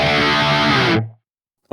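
Heavily distorted electric guitar tone from the Archetype: Gojira X amp plugin with the chorus pedal off, a sustained chord ringing loud and alone for about a second before cutting off, followed by a brief new attack.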